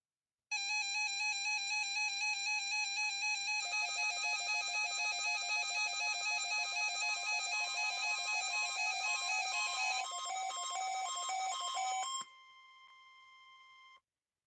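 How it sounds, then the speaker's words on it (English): Loud, steady electronic warning tone of a NOAA Weather Radio public alarm test for Florida transmitters, sustained for about twelve seconds, then a quieter tone before it cuts off. "The preceding signal was a test of the public warning and alarm for transmitters in the Florida listening area"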